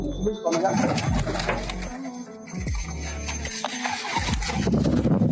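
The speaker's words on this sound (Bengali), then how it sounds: "সব পায়রা চলে এসেছে খাওয়ার জন্য একদম পাগল হয়ে যাচ্ছে" Racing pigeons gather for food, cooing and fluttering close by amid shuffling and clatter, with a person talking over them.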